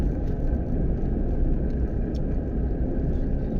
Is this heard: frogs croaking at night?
no